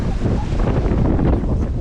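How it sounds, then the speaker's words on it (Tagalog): Strong, steady wind buffets the microphone with a loud, continuous low roar, gusting slightly throughout with no voices. "napakalakas ng hangin"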